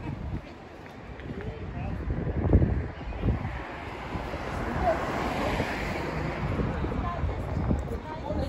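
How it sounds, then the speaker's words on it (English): Strong wind blowing by the sea with waves in the background, a steady rushing roar that buffets loudly and close, with occasional gusts. "It's very warm, it's very windy at the same time"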